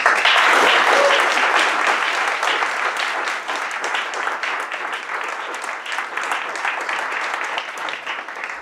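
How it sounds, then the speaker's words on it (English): An audience at a Bitcoin talk in San Francisco applauds steadily, a dense wash of clapping that starts strong and continues without pause for several seconds. "Everyone, please, round of applause, and Andreas Antonopoulos."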